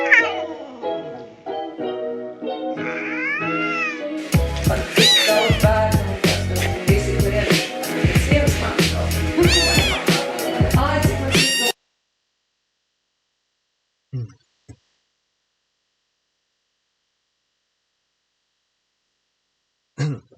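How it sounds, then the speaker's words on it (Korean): A cat meows repeatedly in a string of close, loud, drawn-out cries, then falls silent apart from a couple of brief faint sounds afterward. "이 울음소리는 원래 고양이들이 내는 소리이기보다 어미 인간의 관심을 끌기 위해 우리를 향해 내는 특별한 울음소리인 것이다"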